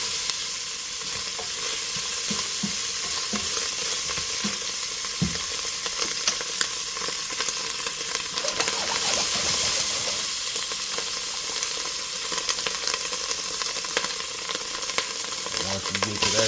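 Green beans frying in a pan as they brown, a continuous close sizzle and crackle that stays at an even level with a few soft stirring knocks early on and no voices.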